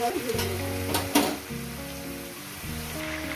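Chicken pieces coated in salt, chilli and turmeric frying in a pan for chicken curry give a steady sizzle throughout, with music playing over it and a brief clatter near the middle.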